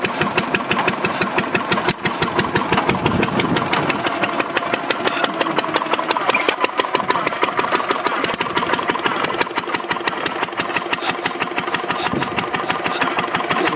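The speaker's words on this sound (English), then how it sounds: "Wow, that is some motor. That is one hunk of big flywheel." An antique engine with a big flywheel runs at a heritage day on Salt Spring Island, producing a rapid, evenly repeating chuffing and knocking beat that stays loud and close throughout.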